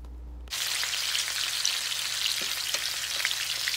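Food browning in hot oil in a pan sets off a dense, steady sizzle and crackle after a brief quiet start, close and continuous, with no talking.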